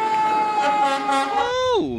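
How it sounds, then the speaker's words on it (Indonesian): An ambulance siren wails in a steady sustained tone, then sweeps sharply downward as the vehicle passes close by, loud and alone. "ada mobil ambulan ya teman-teman ya"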